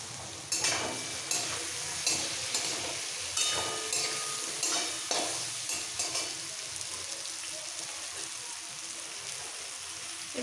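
Fried potatoes stirred into a frying rohu fish curry with winter vegetables, a soft continuous sizzle broken by a series of regular scraping stirs from a spoon against the pan.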